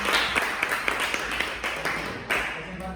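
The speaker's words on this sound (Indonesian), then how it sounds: "silakan berikan tepuk tangan" Applause after a students' group presentation in a classroom, a burst of brisk, close clapping from a small group that tapers off over a few seconds.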